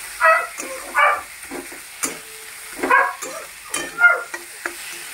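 A catla fish head frying in a pan, with sharp sizzling bursts and spatula scrapes coming in irregular waves, close and moderately loud, with no talk.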